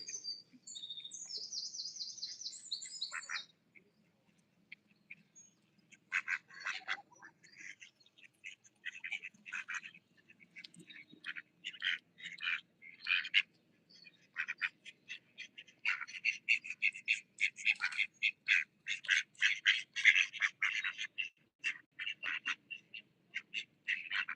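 Ducks call repeatedly in short bursts of quacks and chirpy peeps, some close and fairly loud, with brief quiet gaps between clusters and a few higher tweeting notes at the start.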